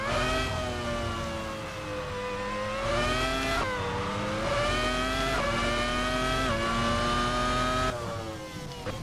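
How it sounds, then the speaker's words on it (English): A sim-racing car engine in Assetto Corsa revs loudly and steadily with rising and falling harmonics, then climbs as the car launches, the note building repeatedly through gear changes. "I've got throttle, clutch in, first gear. Let's raise the revs."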